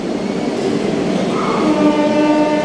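Ganadevata Express standing at a platform beside coach C1, a steady loud rumble of idling rail machinery with a sustained tonal whine rising in the later part, busy station ambience around it.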